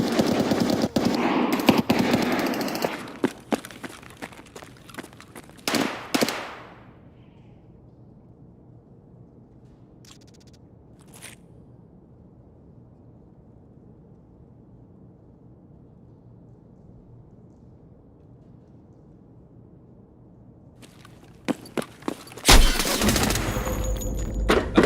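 Gunfire in a shooter video game: loud bursts of automatic fire and blasts at the start, then a long stretch of near silence with faint background hum, before another sharp burst of shots near the end; no speech.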